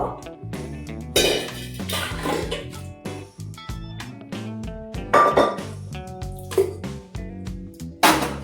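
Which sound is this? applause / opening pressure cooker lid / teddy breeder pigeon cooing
opening pressure cooker lid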